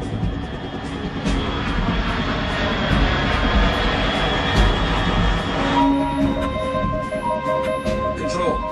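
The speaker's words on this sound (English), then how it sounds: "Unidentified aircraft detected." An aircraft in the Metal Gear Solid 3 video game sends a loud, steady engine roar and rumble through the whole stretch, with faint tonal electronic beeps rising near the end.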